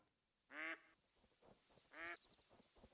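Mallard ducks quacking in the hunting game TheHunter: Call of the Wild, two distinct nasal quacks about a second and a half apart, faint and distant over quiet outdoor ambience.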